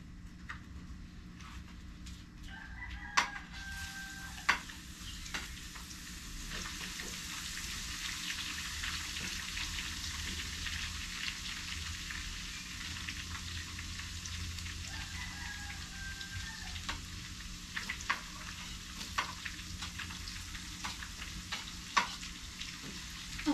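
Ingredients for Bicol Express sauté and get stirred in a pan, a steady faint sizzle broken by occasional sharp clinks and scrapes of the utensil, with no talking.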